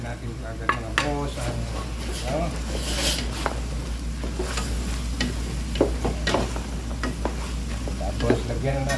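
Chicken adobo sizzles steadily in a pan while it is stirred, with frequent metal scrapes and clinks of a utensil against the pan over a constant low hum. Intermittent talk is heard over the cooking.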